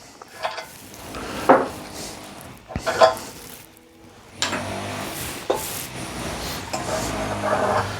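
A blade is rubbed across a coarse 80 grit sharpening stone in uneven scraping strokes, close and moderately loud, with gritty friction and pauses between passes.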